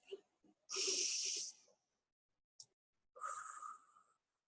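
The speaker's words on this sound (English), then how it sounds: "Take a really deep breath." A deep breath drawn in with a long hissing inhale, a short pause with a faint sniff, then a slower, airy exhale, close and quiet with no talking.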